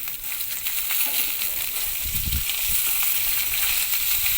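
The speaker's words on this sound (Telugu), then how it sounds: "ఉల్లిపాయ ముక్కలు గోల్డెన్ కలర్ వచ్చే వరకు ఫ్రై చేసుకోవాలి" Thinly sliced onions fry in a hot oil tempering with a steady, bright sizzle, broken by a few low stirring thumps halfway through.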